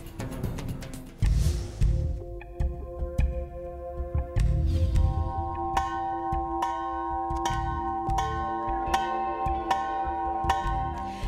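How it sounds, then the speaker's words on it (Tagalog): A bell rings out repeatedly in a steady rhythm, loud and resonant, signalling the start of an earthquake drill, its strikes overlapping into a lingering metallic ring with no talking. "Narinig na po natin yung uh, pagtunog ng bell."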